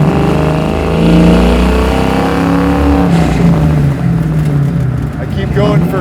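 A 1971 Ford Mustang Fastback with a garage-built stroker engine and custom muffler setup drives along, its loud steady exhaust drone rising and settling as it pulls through the gears, with voices talking over it inside the car.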